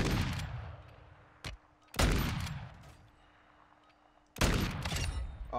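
Gunfire in the video game Warzone 2: several loud, close, booming shots spaced a second or two apart, each trailing off in a long echoing decay, with a faint extra crack between them.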